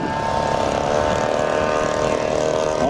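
A propeller-driven model warbird airplane comes in to land on a diagonal runway with its gear down, its engine drone loud and steady throughout the short stretch.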